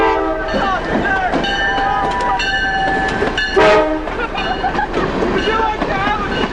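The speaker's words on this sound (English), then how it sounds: "The train isn't stopping." A train passes close by, its loud horn sounding in long harmonic blasts over rumbling, clattering wheels, with a voice speaking underneath.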